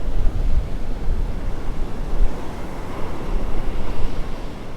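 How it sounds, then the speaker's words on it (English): Hurricane-driven waves surge and splash over a seawall at Vanderbilt Beach as Hurricane Helene approaches, a continuous rough wash of water mixed with heavy wind buffeting the microphone. "That water's splashing up over the seawall now."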